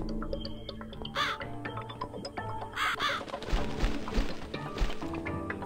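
Crow cawing in The Cat Lady, two harsh rasping caws over a busy game soundscape with thumps and knocks, moderately loud and close.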